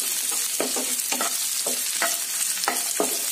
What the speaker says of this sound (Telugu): ఆల్రెడీ మనం ఇందాక ఫ్రై చేసుకున్నాం బెండకాయ ముక్కలు వేసేద్దాం